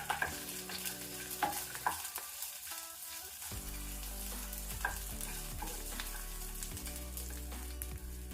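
Green chillies frying in oil in a pan on a low flame, a steady close sizzle with intermittent stirring clinks and scrapes.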